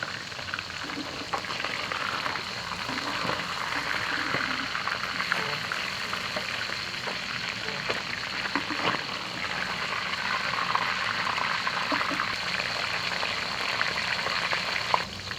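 Steady, even sizzling of fish frying in oil in a non-stick pan, a constant crackling hiss that fills the whole stretch at moderate loudness with no talking.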